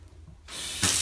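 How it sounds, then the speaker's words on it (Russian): Cold water from a well-fed plumbing line bursts from a tap at a country house, starting after a quiet pause as a steady hiss that grows stronger near the end. "вот у меня пошла вода,"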